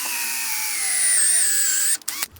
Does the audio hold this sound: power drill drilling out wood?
yes